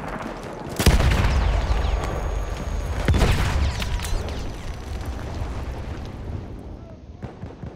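Grenade blasts in Battlefield 1 multiplayer, two heavy booms about two seconds apart amid ongoing distant gunfire and battle noise.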